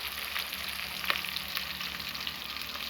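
Whole spices and curry leaves crackle and sizzle in hot oil for a village-style cauliflower masala rice, a steady dense frying hiss with a few sharper pops, close and continuous, no voices.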